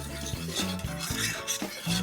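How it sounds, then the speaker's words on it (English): A spoon scrapes and clinks around a pot of passion fruit syrup in repeated, even strokes, close and fairly quiet. "Stir all that in there."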